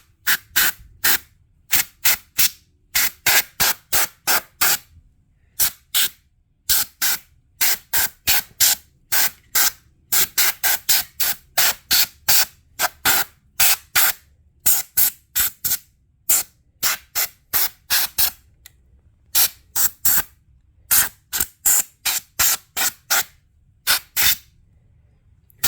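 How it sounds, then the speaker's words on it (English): Short bursts from a can of compressed air blowing dust off a Leslie speaker chassis, loud close hissing blasts repeated rapidly in irregular groups with brief gaps between them. "So it's just a can of air."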